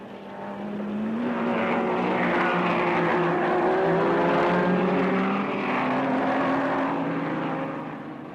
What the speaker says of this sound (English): The two Ferraris of Hill and Von Trips are trying to make ground.